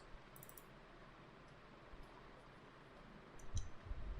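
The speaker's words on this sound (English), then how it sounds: "I am clicking on start." Sparse, faint clicks of a computer mouse against a quiet room hum, with a few soft taps and a light rustle near the end, with no talk.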